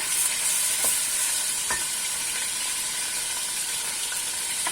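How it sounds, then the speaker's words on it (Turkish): Chicken pieces sear in hot oil over high heat for a Turkish chicken stew, giving a steady close sizzle with occasional clinks of a stirring utensil against the pan and no talk. "Sonra yüksek ateşte böyle tavuklarımı şey yapacağım. Mühürleyeceğim arkadaşlar."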